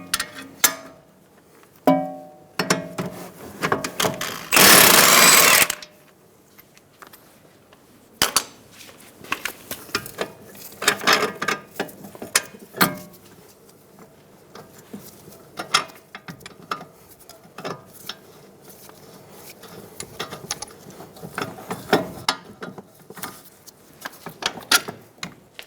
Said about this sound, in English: Using a 22mm socket and a 22mm wrench, we're going to hold the head of the bolt and remove the nut.